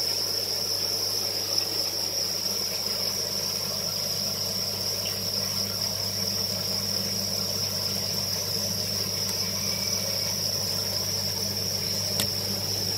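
Crickets at a cricket farm chirp in a continuous, dense, high-pitched trill that stays steady and fairly loud throughout, over a constant low hum, with no talking.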